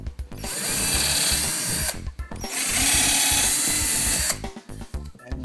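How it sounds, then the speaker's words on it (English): A power drill whines loudly in two sustained bursts pre-drilling holes in wood, with a short pause between them, close up, with clattering handling noise at the start and end. "I'm gonna pre-drill a hole here."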